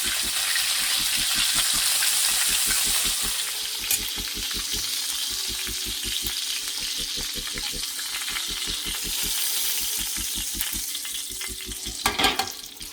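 Burgers frying in a pan while being basted with their own fat and juices: a loud, steady sizzle throughout with a fast rhythmic spooning or scraping pulse, and a brief clatter near the end.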